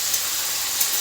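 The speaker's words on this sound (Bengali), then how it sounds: "সবজি ভাজা হচ্ছে, এটা সবজি ডাল হবে।" Vegetables frying in a pan for a Bengali vegetable dal, giving a steady, close sizzling hiss that holds evenly throughout with no voices.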